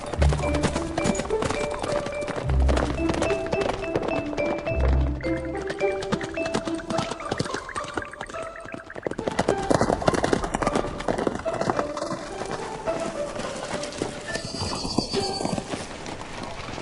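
Horse hooves clip-clop in short bursts, with a whinny among them, heard under steady music and people talking.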